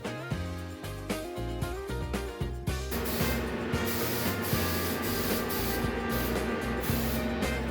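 A steady hiss of spray-painting primer onto a Sprinter van runs continuously, with quieter bursts and background music-like tones at the start before the spray dominates.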